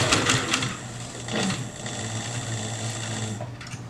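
Sewing machine stitching through leather in a steady, fast continuous run down a straight line, close and fairly loud with a droning motor hum, no talk over it.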